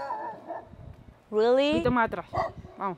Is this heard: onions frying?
no